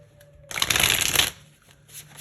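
Tarot cards being shuffled, one quick riffle lasting under a second, close and crisp against a quiet room with a low steady hum.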